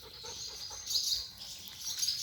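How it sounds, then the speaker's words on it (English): Wild birds chirping inside a farm barn with a concrete floor, short high tweets rising and falling over a couple of seconds, moderately close with a little room echo and no talk. "Only downside is there are birds that live in here."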